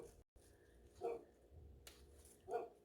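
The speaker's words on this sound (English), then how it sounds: "my dogs think they have to bark at them" Two faint barks from dogs somewhere in the distance, spaced about a second and a half apart, over quiet outdoor background hum.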